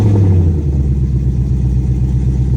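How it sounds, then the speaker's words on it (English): A Ford Mustang S550 with a VMP Boost A Pump fitted sits running close by, its engine a loud, steady low rumble that settles to an even idle after a brief initial surge. "the car should fire right up"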